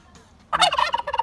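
A turkey gobbles loudly and close by, a rapid rattling burst after a moment of quiet.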